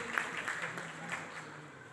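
Faint, thin audience applause at a junior quiz competition prize announcement, soft scattered clapping with a quiet voice over it.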